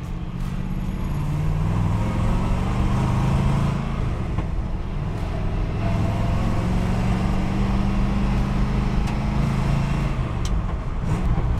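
A 1962 Corvette with a rebuilt engine idles steadily, a low, even rumble that holds constant and close without revving.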